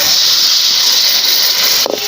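Steady, loud sizzling hiss of water added to a hot pan of frying quail with pepper, continuous throughout with a brief sputter near the end.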